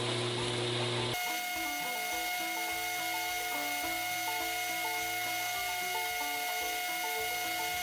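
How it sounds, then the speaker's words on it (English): A belt sander with a 60 grit belt grinds a Kydex sheath for a small knife, giving a steady, close whine with a constant hum that continues without a break, with no talk. "Now we're using a 60 grit belt this time just to try it out."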